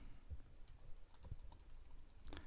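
Soft, quiet clicks of typing on a Bluetooth keyboard, a few scattered keystrokes at close range with no talking.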